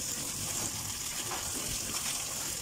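Water splashed and poured onto an overheated car on a hot day, a steady gushing, spattering wash heard closely with no talk.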